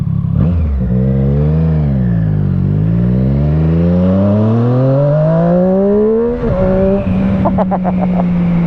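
A Triumph Street Triple RS 765 motorcycle revs hard, its loud, close engine note dipping then climbing steadily through a long acceleration, then shifting to a higher gear and carrying on at a steady pitch.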